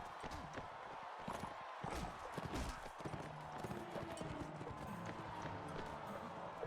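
Horse hooves clip-clop steadily on the ground in the medieval combat game Mount and Blade Warband, a brisk rhythmic beat close by mixed with game background noise.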